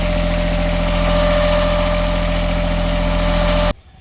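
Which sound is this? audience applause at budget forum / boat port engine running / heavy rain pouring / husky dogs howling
boat port engine running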